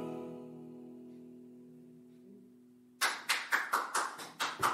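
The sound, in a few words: hand clapping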